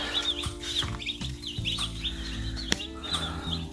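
A brooder of tiny chicks, some a week old and some only a day old, cheeps continuously with overlapping high, thin peeps, while a few soft knocks and shuffles sound underneath.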